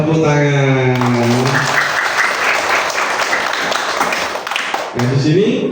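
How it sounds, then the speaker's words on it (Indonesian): Students in a classroom break into sustained group applause, loud and dense, with brief voices just before and just after the clapping. "Iya, tepuk tangan."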